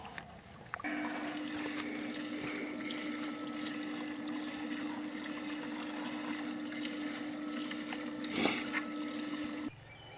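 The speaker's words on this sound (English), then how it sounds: "I'm going to run concentrates through the wheel 2 or 3 more times" A gold wheel concentrator spins while water carries concentrates across it, a steady whirring hum with constant splashing and trickling that runs unbroken and stops abruptly near the end.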